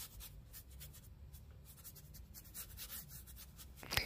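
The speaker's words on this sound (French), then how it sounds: "Vous entendez le doux bruit du pinceau sur le papier." A watercolour paintbrush scratches and swishes across paper in quick, vigorous strokes, faint and close, with a small tap near the end.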